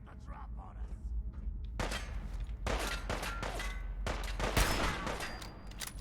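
A hunting rifle firing in the video game Fallout 4: a few sharp, loud shots spaced seconds apart over a quieter low rumble, with someone talking at times between them.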